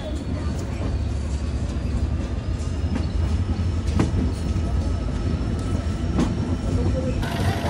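On board, a train pulls out of Chuadanga station, a steady low rumble with periodic clicks and clacks and a faint high whine running throughout.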